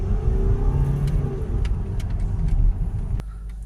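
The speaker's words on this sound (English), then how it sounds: "Okay, so we're going to see is the boost working, so a full rev." A Mercedes ML250 CDI 2.1 diesel engine, fault-coded for soot in the particle filter, held at a full steady rev, a loud continuous droning roar that drops away sharply near the end.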